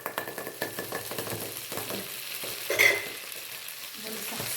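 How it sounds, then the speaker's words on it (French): Butter melts and sizzles in a pan over medium heat, a soft crackling hiss broken by light scraping and stirring sounds, with a brief louder clank partway through. "on va faire fondre le beurre et le feu, faut le mettre à feu moyen"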